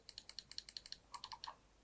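Scroll wheel of a Bloody R36 Ultra wireless gaming mouse being turned: a quick run of sharp, evenly spaced notch clicks, close and fairly quiet, with no voice over them.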